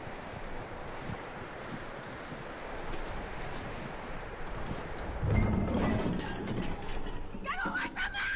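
Horse hooves clip-clop steadily on the ground in Red Dead Redemption 2, with light movement and rustling around them and a brief louder burst of activity midway.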